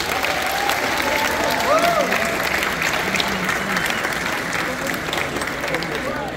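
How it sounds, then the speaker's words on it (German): Audience applause at a cosplay contest at Watercon, Waterfront Bremen, a dense, steady wash of clapping from a crowd with a few voices calling out over it, holding at an even level throughout. "Also auch da nochmal großer Applaus."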